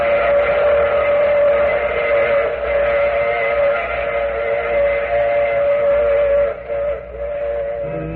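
A steam train whistle sounds in an old-time horror radio drama, a loud sustained blast that holds steady for several seconds over rumbling rail noise, with no talking.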